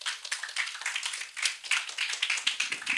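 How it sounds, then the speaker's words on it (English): Audience clapping at an opening ceremony of a BINUS University international conference, a dense steady patter of many hands, moderately loud and continuous with no voices. "A round of applause, please"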